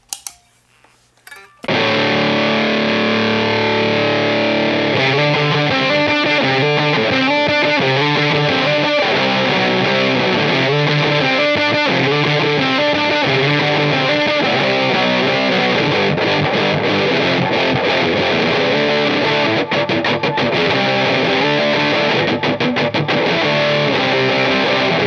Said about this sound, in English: it's gonna be a little bit more like a cross between distortion and fuzz.